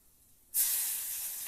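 Turmeric and garlic dropped into hot oil in a kadai set off a sudden loud, steady sizzle that begins partway through and keeps hissing without a break.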